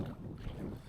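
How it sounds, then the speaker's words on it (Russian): Wind blows across a lake shore while wind-driven waves slap near the bank during a fishing outing. A dull, low rumble of wind buffets the microphone and mixes with close lapping water. "уже здесь уже волна от ветра, как на море, бьет"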